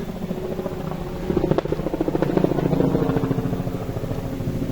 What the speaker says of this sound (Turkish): Helikopterler de uçuyor tepemizde.